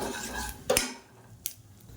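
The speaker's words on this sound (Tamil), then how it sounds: "அமர்த்திட்டு இந்த தாளிப்பை அப்படியே சட்னியில் கொட்டிடலாம்" Hot tempering tipped from a small pan into peanut chutney, a quick metallic clink of the pan and a brief splash, then a second faint knock, close and quiet with no talk.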